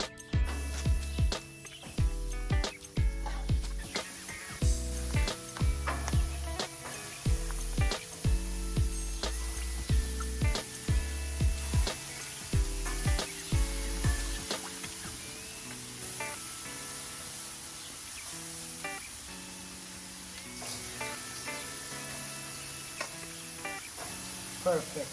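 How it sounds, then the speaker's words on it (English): Marinated rabbit pieces laid onto a hot barbecue grill give a steady hiss and sizzle, with repeated clanks and thumps of placement early on, then a softer continuous frying crackle. "Now that the rabbit is marinated, I'm just going to put it onto the barbecue."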